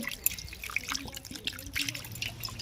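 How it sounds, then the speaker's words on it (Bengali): Water trickles and splashes unevenly over fresh chhana, the curdled cottage cheese being rinsed for khirmalai sweets. The rinsing is close and fairly quiet, with light drips and pouring. "এবারে ছানাটাকে আমি ভালো করে ধুয়ে নেব"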